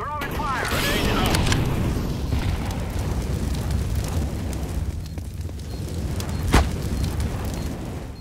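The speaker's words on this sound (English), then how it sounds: "Throwing a grenade." Grenade blast in Counter-Strike on the de_cache map, a loud rumbling explosion dominating the opening seconds, then decaying into a broad roar with a sharp pop near the end.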